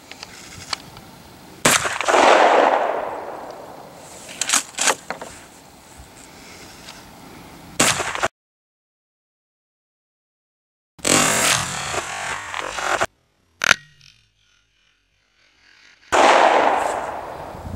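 A Remington 870 shotgun fires 2 3/4 inch slugs at bottles outdoors, sharp loud blasts with decaying echoes spaced several seconds apart, separated by stretches of silence.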